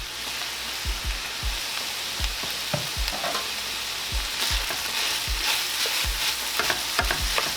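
A spoon stirs tomato paste around a sizzling pan while homemade Hamburger Helper is cooked. Repeated scraping strokes come at an irregular rhythm over a steady frying hiss, close up and with no talking.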